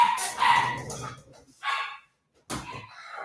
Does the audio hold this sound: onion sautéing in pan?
no